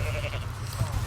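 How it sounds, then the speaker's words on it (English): A goat bleats in a physics sandbox video game, with a loud low rumble of game noise and a voice talking in the background. "Yeah, it's a goat."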